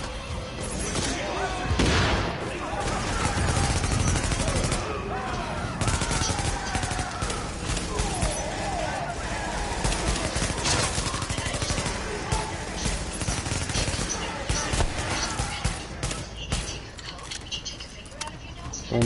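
Video game gunfire keeps up a dense, chaotic clatter for nearly twenty seconds: rapid shots, bursts and crashing impacts piled on top of each other at a loud, sustained level.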